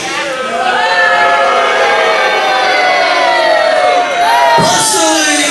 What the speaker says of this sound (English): I heard some of you boo.